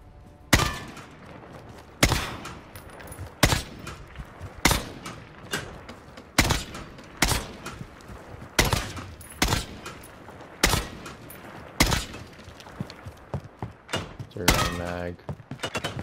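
SKS rifle fire in a video game: single loud, sharp shots spaced about a second apart, each with a brief echoing tail, plus a quick rattle of mechanical clicks near the end.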